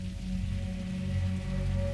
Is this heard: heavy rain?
yes